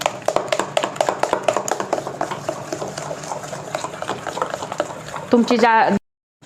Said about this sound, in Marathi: खूप फेटून घ्यायचं त्याला असं, म्हणजे ते छान फ्लफी बनतं